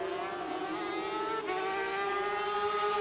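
Sidecar racing outfit at the 1988 FIM Sidecar World Championship at Donington, its engine note rising steadily as it accelerates through the gears, a loud continuous whine with harmonic tones climbing in pitch, with a brief dip partway through.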